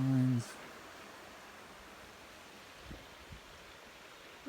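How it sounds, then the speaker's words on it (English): A rocky stream runs steadily beside a trail during an off-road motorcycle ride in Guatemala, giving a faint, even wash of water throughout. A brief voice is heard at the very start. "You can hear the water running"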